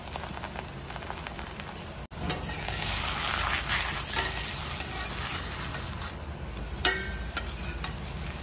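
Bobbatlu fry in a pan with a steady close sizzle, broken by brief scraping and stirring sounds from a utensil. One short break in the sound comes early on.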